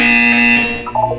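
A buzzer from the game Portal 2 sounds as a loud, steady electronic tone with a harsh harmonic edge, then fades out into a few brief warbling tones.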